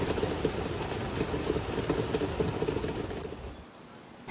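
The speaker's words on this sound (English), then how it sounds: "Looks like quite the storm out there." Heavy rain pours on a sailboat anchored off Grenada during a thunderstorm, a dense steady roar up close that eases slightly near the end. No one speaks.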